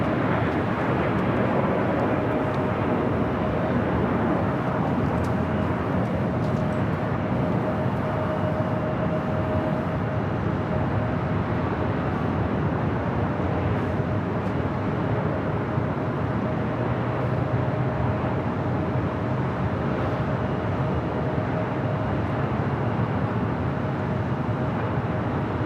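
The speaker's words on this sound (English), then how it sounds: "Next arrival on the north side is Southwest Airlines Flight 2217 coming up from Oakland, the 737 MAX 8." Southwest Airlines Boeing 737 MAX 8 arriving at LAX, a loud, continuous jet roar with a steady whine held throughout as it passes near, no talk over it.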